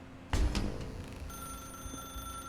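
Telephone ringing in the video game The Stanley Parable: a sudden onset followed by a steady, sustained electronic ring tone against a low ambient hum, moderately quiet and with no talking.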